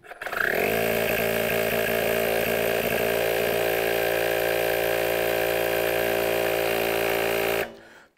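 A Bosch UniversalPump 18V cordless air pump starts up and runs with a steady, loud motor whine and buzz for about seven seconds, then spins down and stops. No one speaks.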